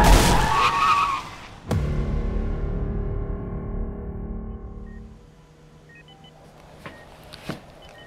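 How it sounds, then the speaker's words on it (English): A car skids with a loud tire screech up close in a dramatized street scene, followed by a sharp impact and a long fading ring, then a quieter stretch with a few faint beeps. "Watch out for the car!"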